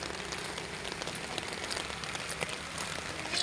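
Steady rain patters continuously on nearby surfaces, a dense, even hiss of drops with occasional louder spatters, and no voices present.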